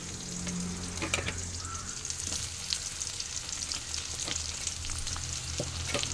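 A tomato-based masala fries in a pan for a drumstick curry, giving a continuous moderate sizzle with occasional soft stirring clicks, heard alone without any voices.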